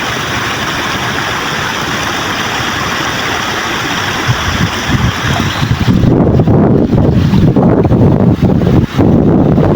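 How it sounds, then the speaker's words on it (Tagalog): Wind rushes loudly and constantly past a boat over a low engine rumble, growing gustier and more buffeting partway through. "Sarap ng hangin niya."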